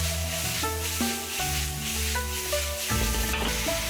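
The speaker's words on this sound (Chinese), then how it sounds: "把平菇投入锅中，快速翻炒均匀" Oyster mushrooms and pork slices are stir-fried in a wok: continuous sizzling with brisk tossing and scraping, heard over steady background music.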